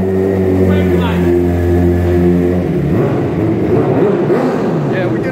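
Motorcycle engine revving hard near the microphone, a sustained throaty drone that shifts into rougher, fluctuating roars, with voices talking over it outdoors.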